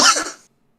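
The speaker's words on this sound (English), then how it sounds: "also coughing my fucking lungs out" A single short harsh cough from a man, close and alone, cut off quickly into silence.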